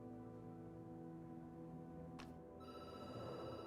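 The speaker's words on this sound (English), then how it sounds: "The phone rings and you jump." A telephone bell rings in the video game Night Call, starting late and fairly loud over a steady musical background.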